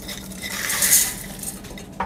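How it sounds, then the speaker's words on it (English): A jar of pork and rice meal is tipped into a cooking pot, giving a continuous clatter of food and light scraping against metal. It ends in a sharper knock and plays without any speech. "I'm going to go ahead and empty it right into my pot"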